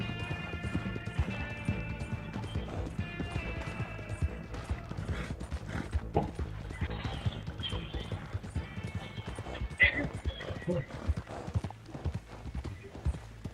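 Hoofbeats clip-clop steadily from a horse in the Red Dead Redemption 2 game world, with a whinny rising partway through, all under game music and a voice talking over the top.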